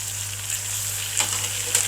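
Ginger added to onions frying in a pan for mustard-greens saag, a steady sizzle with a couple of brief stirring scrapes, close and alone with no talk.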